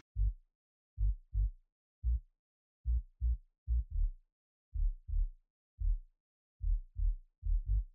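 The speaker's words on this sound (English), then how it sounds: "I added some saturation and a little bit of like warm distortion, just to make the sub sound" A warm, slightly distorted sub-bass synth thumps out short low notes in a syncopated rhythmic pattern, with nothing else playing.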